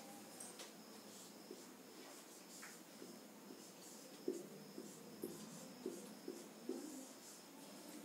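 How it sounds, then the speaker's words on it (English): Numbers written out in a maths lesson, heard as faint, light scratching strokes and small ticks spaced out in a quiet room, with no talking. "Let us write."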